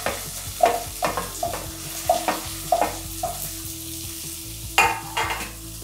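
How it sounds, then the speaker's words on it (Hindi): Gatte, gram flour dumplings, frying in hot oil, with a low bubbling sizzle punctuated by repeated sharp spoon stirs and clinks at a regular pace, close and alone. "और इसे बिल्कुल अच्छे से आप इस तरह से फ्राई कर ले जब तक ये थोड़ा हल्का ब्राउन नहीं होता है।"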